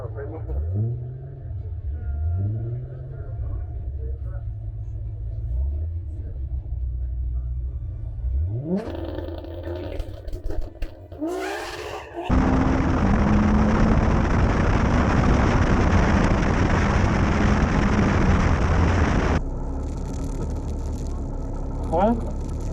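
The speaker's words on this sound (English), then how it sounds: "another drag strip run" A turbocharged car makes a drag strip run. The engine revs and climbs through its gears, then a loud, sustained roar passes close by and settles into a steady drone, with people talking nearby.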